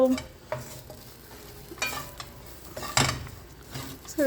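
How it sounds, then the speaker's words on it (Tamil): Grated coconut dry roasting in a pan with no oil, giving a faint soft sizzle broken by occasional stirring scrapes and light clinks of a utensil against the pan. "ட்ரை ரோஸ்டிங், எந்த ஆயில் எதுவுமே தேவையில்லை"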